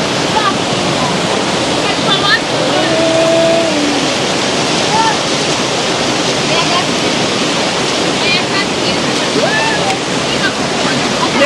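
A rushing, flooded river roars steadily and loudly throughout, a dense unbroken wash of water noise with faint voices and brief tonal calls buried beneath it.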